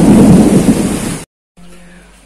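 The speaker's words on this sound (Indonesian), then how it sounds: "saya rasa tak dapat buat rekaman sebab hujan lebat" Heavy rain roars with rumbling thunder in a forest, a dense loud wash that cuts out suddenly partway, leaving a faint low hum.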